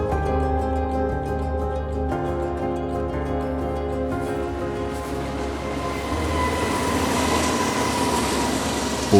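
A train runs along a railway line squeezed between water and mountains near a village, its steady rumble and wheel noise continuous and close throughout, swelling slightly louder toward the end.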